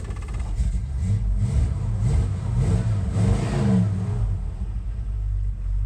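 Engine of a 1964 Ford F100 pickup running rough while cold, a steady close low rumble with an uneven, loping pulse and slight swells in revs throughout.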